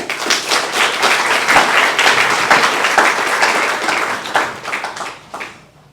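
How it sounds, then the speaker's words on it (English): Audience at a Solomon graduation ceremony in Palm Beach applauds Rabbi Shiner, loud sustained clapping from many hands that fades out near the end. "let's give Rabbi Shiner a round of applause"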